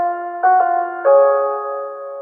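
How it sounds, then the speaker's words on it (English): The Arkham Asylum intercom chime from the Batman Arkham video game plays as a loud, clean run of sustained electronic tones, stepping to new pitches twice and ringing on alone. "Arkham Asylum intercom chime."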